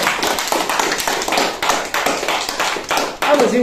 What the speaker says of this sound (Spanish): Un fuerte de aplauso